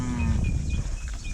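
Cattle moo on a beef farm, one loud, drawn-out low call close by, with further lowing and farmyard noise behind it.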